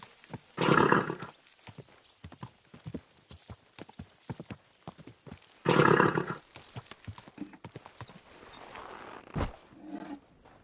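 Horse hooves clip-clop on the ground in the video game Kingdom Come Deliverance 2, two loud bursts of hoofbeats set apart by quieter scattered steps, with a brief low thump near the end.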